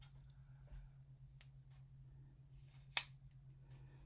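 Scissors trimming around a paper flower on a card, a few faint, sparse snips with one sharp, louder cut near the end in a quiet room.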